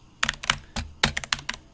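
A search typed on a computer keyboard: a quick burst of crisp, close keystrokes in uneven clusters, loud and clear with no talk over it.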